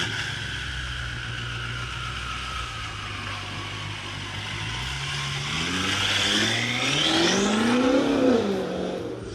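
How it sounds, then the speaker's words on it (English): BMW M5 V8 engine with its exhaust valves open, revving from a steady idle into a climbing, rising roar that builds louder toward the end, heard alone with no talk. "We're gonna rev it with the valves on and the valves off."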